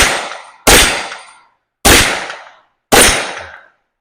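Three sharp, loud carbine gunshots from an M&P FPC or Hi-Point 995 fire at steady intervals of about a second, each ringing out with a long decaying echo.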